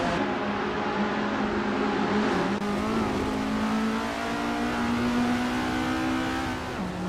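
A 1979 Estonia 20 race car engine in a racing video game drones at high revs, holding a steady pitch with a brief dip and a gear-change shift midway, loud and close with no talk over it.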